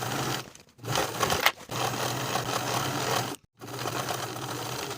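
A sewing machine runs a continuous stitching whir along a bias tape seam on an unlined jacket with Hong Kong seams. The motor stops twice briefly before starting again, close and steady with no voices.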